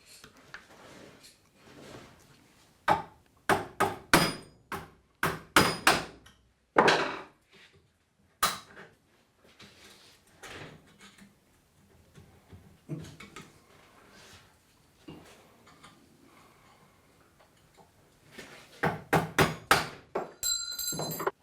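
Hammering to free the rail from an IZHMASH rifle makes sharp, close metallic knocks in irregular bursts, heaviest early and again near the end, with quieter handling noise between them.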